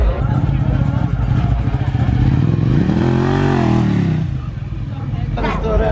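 A Yamaha XT 660 motorcycle engine runs loud and close, revving once in a rising and falling sweep before dropping back to a rough idle, with voices chattering around it.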